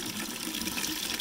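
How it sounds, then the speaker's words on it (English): A reverse osmosis water pump fills a container with a steady, loud rush of pouring water that continues unbroken through the whole moment, with no talking. "it dumps quite a bit of water pretty quick"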